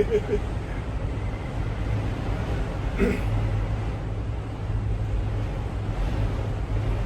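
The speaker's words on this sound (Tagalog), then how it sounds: "Malakas na yung hangin." Steady broadband wind roars across the microphone throughout, a dense low rumble with a brief gust-like burst midway; faint voices sit under it.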